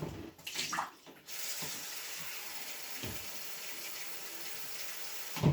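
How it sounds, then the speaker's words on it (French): Lukewarm water is poured from a tap into a bowl for bread dough, a close gushing stream with a short burst at the start, then a steady flow and a brief splash at the end. "Mettez un petit peu d'eau tiède, un bol."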